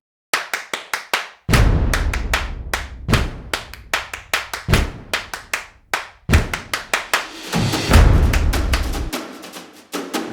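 A group of people claps and stomps in time, with sharp, loud hand claps in rhythmic bursts and deep thumping stomps underneath, all close and with no voices.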